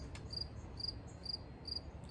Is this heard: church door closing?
no